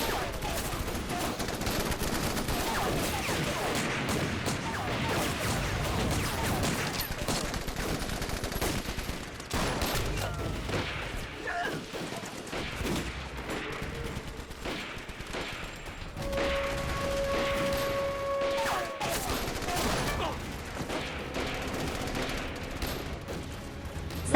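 Battle gunfire rattles almost without pause in a war film fought against Japanese troops, with dense machine-gun bursts, single shots and crashes layered over one another, and faint voices heard now and then.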